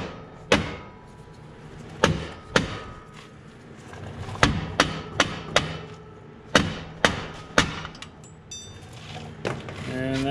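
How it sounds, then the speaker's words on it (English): A hammer strikes old trailer brake hub parts in a dozen sharp metallic whacks, close and loud, some in quick runs and others spaced apart, followed by a brief voice at the end. "see if I just give it a couple whacks with a hammer here"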